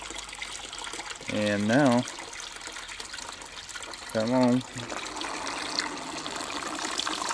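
Water flows steadily through a backyard aquaponics system built around a roughly five-gallon tank, a continuous trickling rush heard throughout. A person speaks twice over it.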